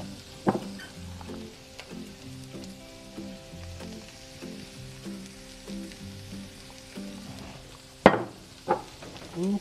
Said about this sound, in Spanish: vamos a estar moviendo constantemente hasta que se cozan nuestras verduras